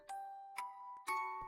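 Three bright bell-like chimes strike in turn, each ringing with a sustained tone, forming a short tinkling melody in a calm children's lullaby, clear and close with no talking over it.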